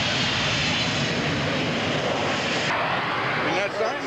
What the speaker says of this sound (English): Isn't that a gorgeous state-of-the-art aircraft?